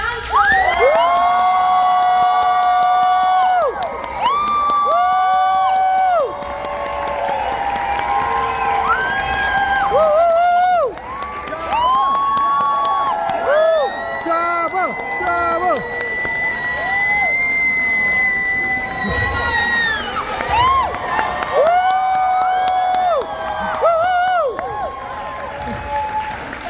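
A studio audience cheers, whoops and applauses loudly and continuously as guests Eman Esfandi and Diana Lee Inosanto walk onto a convention panel stage, with high shouts rising over the sustained crowd roar.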